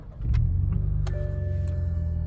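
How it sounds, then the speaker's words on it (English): Toyota GR Supra sports car engine cranking and catching, rising quickly into a loud, steady idle rumble heard close up, with a few small clicks and chimes from the cabin over it. "First, let's start it first. Start and stop engine, of course."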